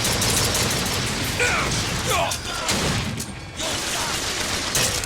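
Chaotic BioShock Infinite combat with rapid gunfire and booming shots, loud and dense, while voices call out over the shooting.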